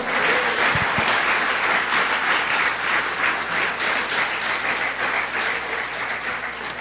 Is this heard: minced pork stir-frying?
no